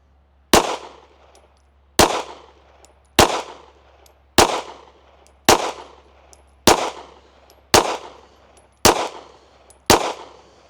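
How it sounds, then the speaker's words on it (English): Nine sharp pistol shots from reloaded ammunition fired at a steady pace, roughly one every second and a bit, each a loud close crack with a short ringing tail, no talking between them. "let's shoot a group at the top right target"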